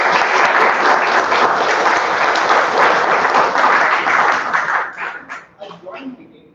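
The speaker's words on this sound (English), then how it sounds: "can we also have a huge round of applause" An audience at a joint Toastmasters club meeting gives a big round of applause, dense clapping that holds steady for several seconds and then thins into a few scattered claps.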